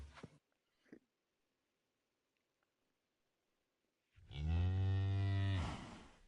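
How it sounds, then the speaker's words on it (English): The new cow moo sound effect from Minecraft plays once, a loud, close, drawn-out low moo lasting over a second, preceded by faint soft clicks and near silence. "cows now have new sound effects"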